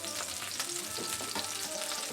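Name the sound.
red chili flakes sizzling in butter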